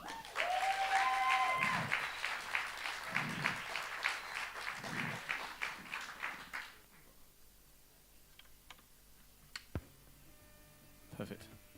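Audience applause and cheering at a live music venue, loud and sustained for several seconds with whoops, then fading to scattered claps and quiet room noise.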